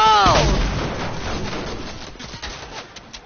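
A single loud shot in Fortnite opens with a sharp crack and a long rolling decay, then fades under a voice talking.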